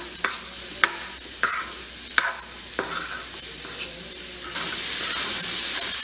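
A cinnamon, sugar and salt mixture is stirred in a pan for French toast roll-ups: a handful of sharp spoon taps and scrapes spaced about half a second apart over a steady background hiss that grows slightly louder near the end.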